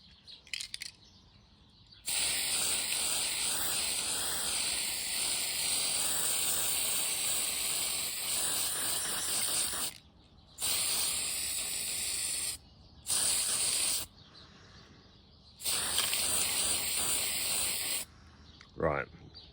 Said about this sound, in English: to spray paint for the helicopter